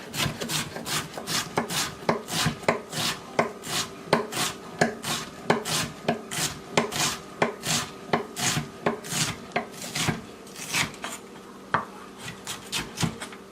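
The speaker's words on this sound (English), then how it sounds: "And now I'm just going to chop it." Knife chopping spinach on a cutting board for chicken fettuccine Alfredo Florentine, rapid regular thuds repeating about twice a second, close and crisp with no talk.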